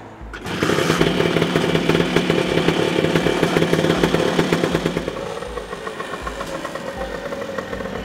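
A wide frame Vespa scooter two-stroke engine catches after a kick start and settles into a steady, close, buzzing idle with rapid rhythmic pulses, loud and alone.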